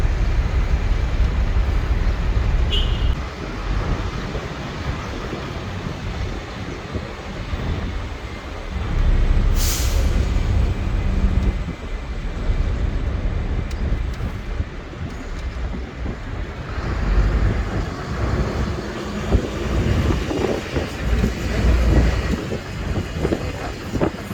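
A steady low rumble of a large vehicle driving, engine and road noise droning continuously with wind buffeting, loud and close throughout.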